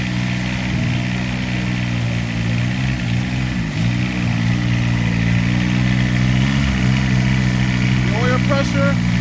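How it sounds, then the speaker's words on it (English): A Kubota diesel engine at its first startup runs steadily at idle with a rough, droning, even tone throughout, loud and close, with no voices over it. "After 4 weeks of working with the engine, it's time for the initial startup."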